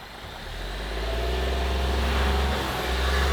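Off-road vehicle engine on a rocky climb in Moab, a steady mid-pitched drone that swells gradually as throttle is eased on, heard close and continuous without voices.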